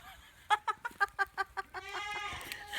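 Chickens on a family farm clucking nearby, a quick run of about eight sharp, evenly spaced clucks followed by a drawn-out, wavering squawk, fairly faint.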